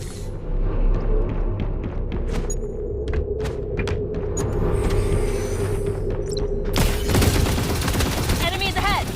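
Rifle gunfire in an action video game, with repeated sharp shots cracking over a steady loud bed of battle noise and music, then a heavy burst of blasts near the end.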